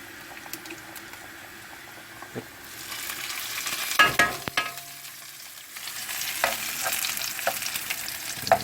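Garlic sizzles and crackles in oil in a pan for aglio e olio, a steady frying hiss that swells louder midway, with a few stirring clinks and no talking.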